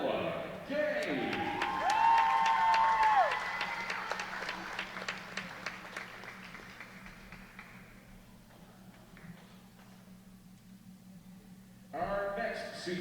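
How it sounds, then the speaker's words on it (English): A crowd at a college volleyball match gives a senior player a round of applause, a dense wash of clapping and some cheering that swells, thins out and then briefly rises again, with a public-address voice at the start. "one more round of applause for Ella Gay"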